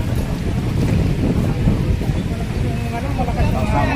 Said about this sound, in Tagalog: lumalakas ang hangin.